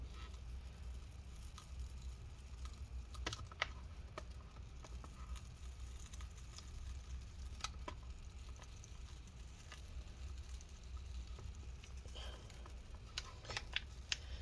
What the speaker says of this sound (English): You can actually hear the adhesive peeling up.